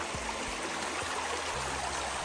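Shallow creek crossing in Red River Gorge, Kentucky, with water running steadily over rocks near a large boulder, a close, continuous rushing wash with no voices.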